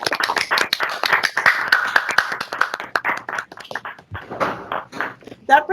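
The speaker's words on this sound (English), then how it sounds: "So let's give them another round of applause." Scattered clapping for graduate mentors at a virtual university scholars ceremony, sharp separate claps from a few people mixed with talking, rather than a full crowd ovation.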